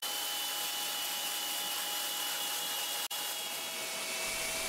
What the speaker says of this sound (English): First, I focus on removing the epoxy in the lower spots by using the edge of the belt sander.